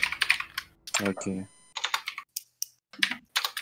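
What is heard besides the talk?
typing on a mechanical keyboard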